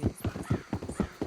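Horse hooves clip-clopping in the Red Dead Redemption 2 video game, a fast even trot of about six close, crisp hoofbeats with faint background sound.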